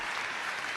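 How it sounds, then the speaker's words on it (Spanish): A brief burst of crowd applause, dense and even, heard for less than a second at moderate distance during a political address. "Sí, un aplauso, por favor"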